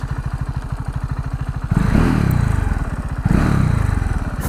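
A KTM Duke 690 R single-cylinder motorcycle pulses steadily at close range, then brakes hard twice into stoppies with ABS intervening. Each stop brings a surge of clattering, scraping noise over the engine, with no talk.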